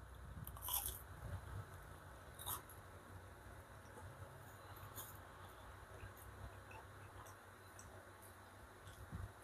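Several crunchy bites into crispy, pan-toasted homemade bread that is soft inside, with short crisp crackles close to the mic followed by faint chewing.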